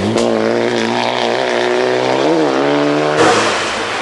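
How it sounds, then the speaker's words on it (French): A turbocharged rally car with a loud new exhaust roars close by in a sustained, droning engine tone. The pitch wavers and rises midway, then shifts abruptly near the end. "Quelques angoisses pour Baroni avec son turbo et son nouvel échappement trop assourdissant."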